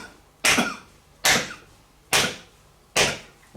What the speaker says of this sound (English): can you cough?